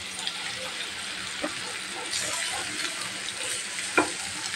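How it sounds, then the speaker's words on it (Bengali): Hilsa fish pieces go into hot oil in a pan, setting off a steady, close sizzle of frying with a few soft clinks and taps of placement and stirring, and no talking. "তেলটা আমার গরম হয়ে গেছে। এখন আমি মাছগুলা বসিয়ে দেব, একটা একটা করে সুন্দর করে বসিয়ে দেব।"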